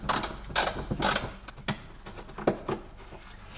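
A small ratchet works loose the bolts on a Jaguar S-Type rear bumper, giving close mechanical clicks and creaks in irregular bursts, with no talking.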